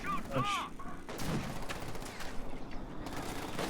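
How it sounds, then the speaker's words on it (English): Company of Heroes 2 battle with a .50 cal machine gun hammering away and mortar rounds landing, a dense run of gunfire and blasts with some faint other game sounds mixed in. "50 cal suppressing them. Oh, mortar getting a decent hit in there."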